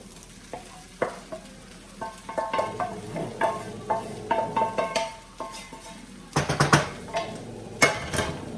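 Meat mixture stirred and frying in a pan during home meal prep, with a soft steady sizzle under repeated scraping strokes of a utensil against the pan, close and moderately loud, with a few sharper clanks near the end.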